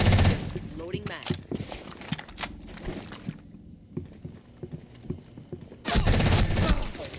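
Video game gunfire crackles in quick bursts, loud at first and at the end, with a quieter, sparser lull in the middle, while a voice talks faintly beneath.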